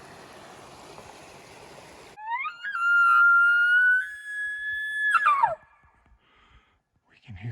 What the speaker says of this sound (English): We can hear something bugling down there. We don't know if it's an elk